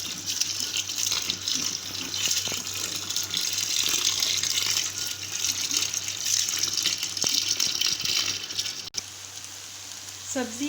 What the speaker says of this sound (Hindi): हम इसके ऊपर ठंडा पानी डालते रहेंगे ताकि हमारी स्पैगेटीज जो हैं वो जुड़े ना।